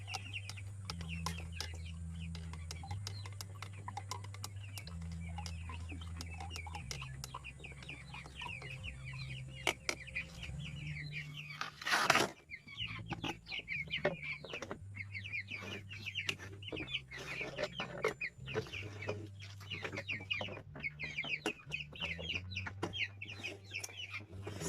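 Backyard chickens cluck and chatter nearby in a steady, busy flock, soft bird calls overlapping throughout with a low mechanical hum underneath and a brief sharp knock in the middle.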